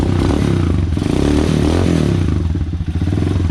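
Motorcycle engine idling and revving while running on a battery-operated CDI with no battery fitted, a loud, close, choppy putter with clattering mechanical knocks.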